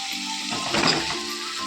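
Fried chicken is added to spiced masala cooked down with turmeric in a pan, and a brief burst of louder sizzling rises over the steady hiss of frying, then settles.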